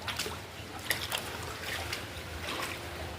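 Typhoon Crising floodwater flows and trickles steadily, a continuous watery wash with scattered splashes and small bursts, fairly close and moderate in level.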